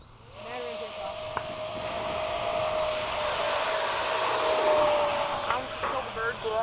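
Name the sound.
Piaggio Avanti turboprop engines at full throttle on takeoff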